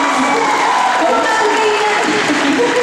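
Audience applause at a live performance, steady dense clapping filling the whole moment, loud and close, with voices mixed in beneath it.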